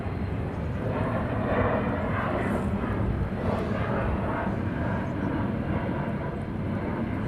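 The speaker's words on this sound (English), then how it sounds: "another F-15 rolling in over the Charlie Point" An F-15 fighter jet rolls in on approach at RAF Lakenheath, a loud continuous engine roar that holds steady throughout with no talk over it.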